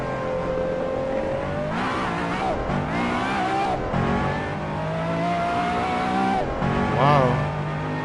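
A Pagani Zonda races in Assetto Corsa, its engine howling through rising revs and quick gear shifts, with brief tire squeals, loud and continuous, while a voice talks over the game audio.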